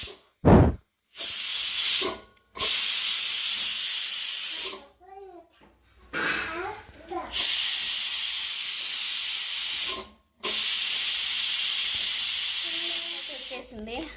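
Loud bursts of hissing steam from a new pressure cooker, cooking fenugreek leaf dal, stop and start several times, with short pauses in between and a voice speaking briefly during the breaks.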